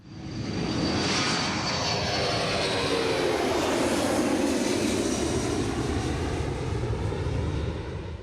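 Jet engines of a C-135 tanker aircraft roar steadily at takeoff power, a loud, continuous broadband rush with a rising whine that stays strong and close throughout, with no voices.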